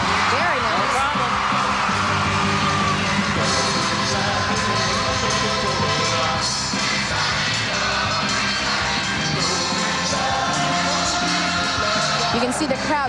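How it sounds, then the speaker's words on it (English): Crowd in an arena cheering and yelling at a 1997 women's pro gymnastics championship, a continuous roar with whoops, while a commentator talks over it throughout. "You can see the crowd really getting into it"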